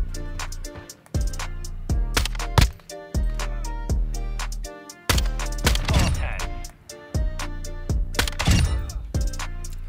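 Long-range pistol shots crack out in a video game, a rapid series of sharp, loud reports in bursts with brief gaps, each shot ringing with a short metallic tail.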